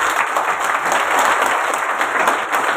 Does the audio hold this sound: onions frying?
no